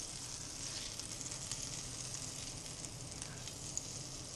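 Butter and bacon fat sizzling in a pan with filet mignon, a steady close crackle and hiss with small pops, no voices over it.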